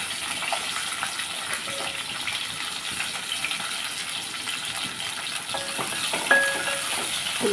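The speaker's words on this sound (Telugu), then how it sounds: "ఆయిల్ హీట్ ఎక్కింది. మనం ఇందులో ఉల్లిపాయలు వేసేసుకుందాం." Sliced onions sizzling in hot oil for a mutton gravy curry, a steady moderate hiss with a few faint clinks, no talking.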